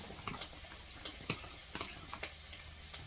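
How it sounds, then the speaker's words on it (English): A spoon stirring creamy mushroom soup in a pot, with scattered light scrapes and clinks against the pot over a soft, steady background hiss. "And then I'm just going to stir it up"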